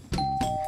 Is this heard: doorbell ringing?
yes